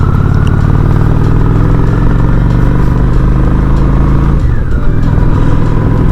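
A Honda Shadow 750 Ace motorcycle engine runs at a steady, loud idle with a deep, even rumble, alone and without voices, shifting slightly in tone near the end.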